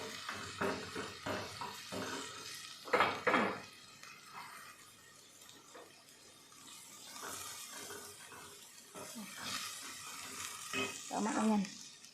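Onion and assorted vegetables sizzle in a frying pan for small macaroni with chicken, a soft steady hiss with occasional stirring clatter and louder bursts, while someone talks over it.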